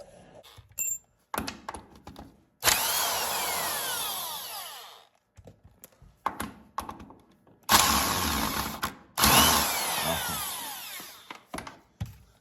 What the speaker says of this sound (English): now we just got to remove the oil pan bolts, which are these, all the way along the row on both sides